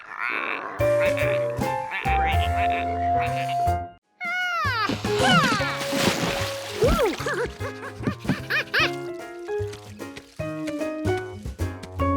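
Cartoonish frog croaks and warbling calls mixed with music in a Curious George cartoon, with a brief pause before a burst of bouncy, sliding croaking sounds.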